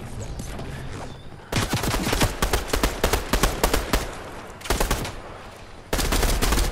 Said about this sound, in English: This guy's shooting at me, but he's gonna die in like 2 seconds.